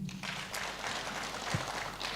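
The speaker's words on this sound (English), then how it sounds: "A clap for him." A crowd at a business chamber cocktail evening claps for a speaker, steady moderate applause running throughout, heard from the middle of the room.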